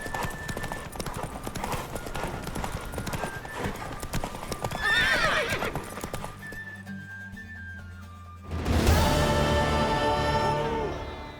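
Rapid clip-clop of a horse galloping in The Witcher 3: Wild Hunt, then a brief lull before a loud, close whinny rings out.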